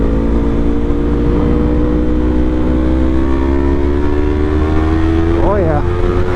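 Motorcycle fitted with a new aftermarket exhaust pulls hard under acceleration, a steady loud engine drone with rising harmonics throughout, close and continuous.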